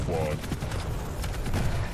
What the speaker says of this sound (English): Even at that range, double shotgun with quad damage is bad.